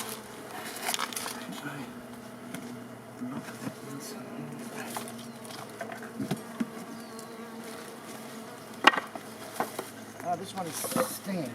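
Bees buzz close and loud around a hive being cut out of a dead tree, a continuous drone with individual insects flying past, while people talk quietly underneath.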